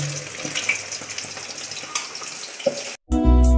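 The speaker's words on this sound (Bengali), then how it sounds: "মাছটা ভাজা হয়ে গেছে" Rohu fish fries in hot oil in a home kitchen, a close crackling sizzle with a few utensil clicks for about three seconds, then cut off abruptly as unrelated music begins.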